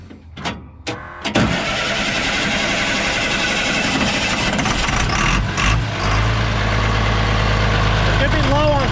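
An International Loadstar truck with a swapped DT360 diesel cranks briefly, catches and settles into a loud, steady rumbling idle that continues to the end.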